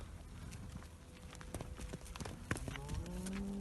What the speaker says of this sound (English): A Hitcham Ivan cow there on the right, this slightly thicker cow